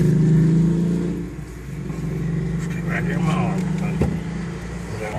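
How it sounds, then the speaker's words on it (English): Cars passing on a busy morning road, heard from inside a moving vehicle as a steady engine and tyre rumble with a brief swell of a passing car. People talk over it. "There's some more cars coming."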